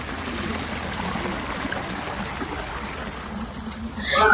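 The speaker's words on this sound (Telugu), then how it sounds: "మోటార్ వేస్తున్నారు, బావిలోంచి నీళ్లు వస్తున్నాయి" Water rushes and splashes steadily from a motor pump drawing from a well, a continuous close gushing flow with a faint hum beneath.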